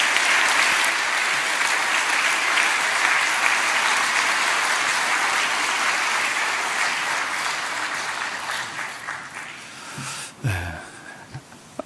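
A church congregation at a dawn prayer service applauds to welcome a visiting pastor, producing dense, steady clapping that fills the room for about ten seconds before thinning out, with a few scattered claps at the end.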